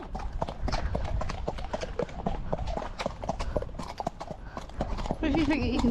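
Hooves of a young ex-racehorse ridden bareback on a bareback pad clip-clop in a steady rapid rhythm, close and loud, amid high winds, with people talking over the hoofbeats.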